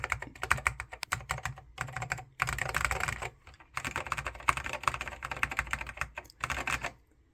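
Rapid bursts of keystrokes on an Apple Extended Keyboard M0115 with Alps SKCM Salmon switches and a thick plastic case, clacking steadily and close, broken by short pauses, with no voices.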